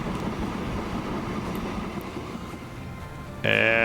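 A train rolls past in a Transport Fever 2 railway scene as a steady rumbling clatter of wheels on track, fairly close, before a brief bright tonal sound cuts in near the end.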